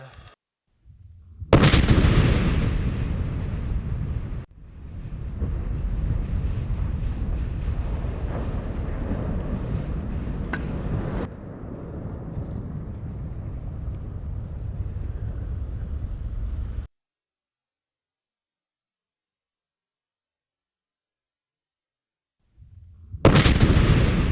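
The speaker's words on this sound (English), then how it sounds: "We are armed. Firing in 3, 2," A gun fires outdoors on a Dempster Highway trip: loud, roaring blasts with long rumbling tails fill the first seventeen seconds, broken by sharp cuts, then a stretch of silence before another burst at the end.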